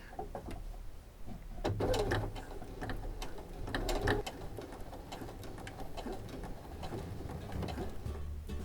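A sewing machine stitching a child's infinity scarf, running in reverse then forward, with a fast mechanical whir and rattling clicks rising and falling at close range, fairly quiet and without voices.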